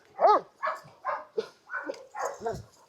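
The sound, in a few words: Dogo Canario dog barking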